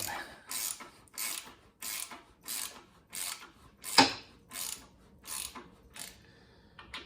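A hand ratchet tightens the motor mount bolts on a 2004 Harley-Davidson Sportster XL883, giving about ten evenly spaced bursts of close clicking, each a short run of pawl ticks, with a single sharper metallic clank near the middle.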